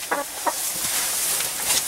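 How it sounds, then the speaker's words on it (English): A hen gives a few short, soft clucks close by, spaced apart over a steady background hiss. "Fearless little chicken, this one."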